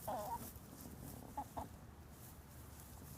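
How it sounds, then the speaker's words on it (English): A few soft clucks from chickens nearby, scattered over a quiet, low rumbling background with no talking. "We have some chickens moving through the area here."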